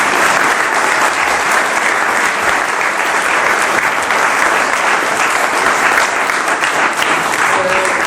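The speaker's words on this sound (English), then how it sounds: "let's give our panel a really loud round" An audience claps loudly and steadily for a climate and ecological emergency hustings panel, a dense, continuous round of applause from a crowd in a hall, with no talk over it.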